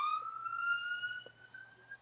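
A siren wails outdoors in a steady rising-and-holding tone with bright harmonics, loud and continuous across the whole stretch, with a faint low hum beneath it.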